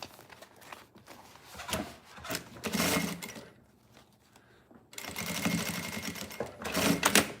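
A sewing machine stitches a fabric flower in several bursts of rapid mechanical chatter, pausing between runs, with rustling of the cloth in the quieter gaps.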